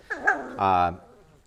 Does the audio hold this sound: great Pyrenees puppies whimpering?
yes